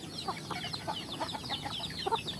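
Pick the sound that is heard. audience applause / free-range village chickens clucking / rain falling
free-range village chickens clucking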